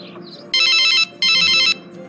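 Telephone ringback on an outgoing mobile call: two long electronic ring bursts, each about half a second, separated by a short gap, loud and close over a low background hum.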